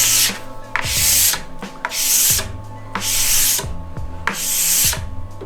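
A sharp scraper is pulled along a ski to strip excess wax, making four long, rasping strokes with short gaps between them, loud and close, with no talking.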